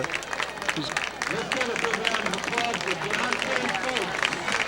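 Crowd at a high school football game clapping and cheering for a player, dense continuous applause with shouts mixed in, busy and fairly loud throughout.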